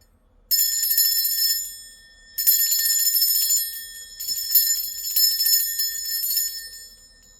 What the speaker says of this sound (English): I've been told to ring my bell.